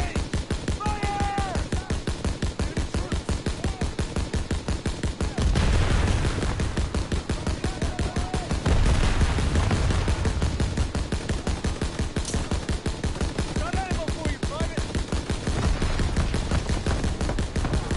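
Dense, continuous gunfire in a Call of Duty WWII battle, with rapid rifle and machine-gun shots layered close and far. Shouted voices and other battle noise sit under the shooting throughout.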